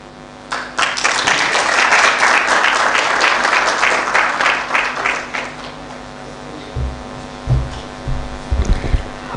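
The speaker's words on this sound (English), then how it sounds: "One more round of applause" Audience applause at a Kenyan budget event, dense clapping building within a second and fading after about five seconds, leaving a low hum and a few muffled thumps and handling noises.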